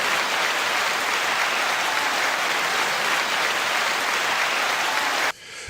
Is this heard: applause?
yes